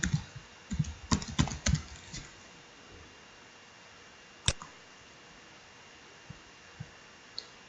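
Keys are typed on a computer keyboard, a quick burst of close, crisp keystrokes followed by one sharp press and a few scattered taps.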